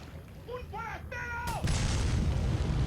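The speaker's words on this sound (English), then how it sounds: "I think someone heard me causing explosions all over the place." Explosions in Resident Evil 4 on PS2: a sudden loud blast at mid-clip gives way to a sustained rumbling roar, following earlier tonal in-game sounds.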